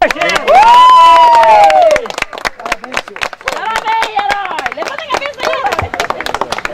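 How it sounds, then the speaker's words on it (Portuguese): A street crowd applauds José Carlos after he rescues puppies from a storm drain: scattered sharp claps and cheers from people close by, with shouting voices and talk over the clapping. "José Carlos foi aplaudido."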